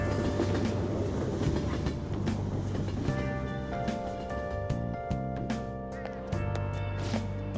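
A train rolls along its rails in Persona 5 Royal, a continuous rumbling ride with steady tonal hum and faint rhythmic clicks, loud and unbroken throughout.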